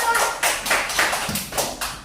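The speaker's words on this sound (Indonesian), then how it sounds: "tepuk tangan dulu untuk kelompok 1" A class of children applauds a classroom group, the clapping close and lively and rising and falling in several rolling swells.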